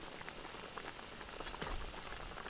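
Steady rainfall pattering down outdoors, a dense, even hiss with scattered heavier drops, fairly quiet and continuous, with no voices over it.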